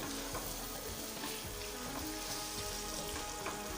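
Green chillies fry in chicken masala for kachnar chicken as they are stirred in, a dense, even sizzle running throughout with faint stirring taps, close and steady, no voices.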